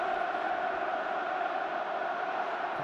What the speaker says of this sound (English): Cardiff fans might be cheering a little louder here.